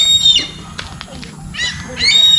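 Crows call harshly and angrily in short bursts from high in a tree, squabbling with a larger bird, with scattered calls and a low outdoor rumble between the cries.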